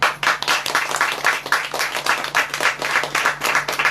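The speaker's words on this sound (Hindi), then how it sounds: "उसके लिए हम ताली हो जाएं।" A church congregation claps in a rhythmic, pulsing beat, loud and close, with individual claps blending into a steady unison pattern.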